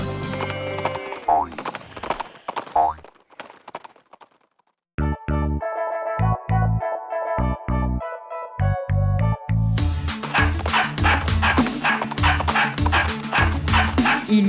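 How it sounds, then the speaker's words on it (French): In a French children's Old MacDonald farm song, cartoon dog woofs ring out repeatedly over bright, bouncy music, with a short quiet gap before a rhythmic barking section and then a fuller band passage. "Et dans cette ferme il avait des chiens"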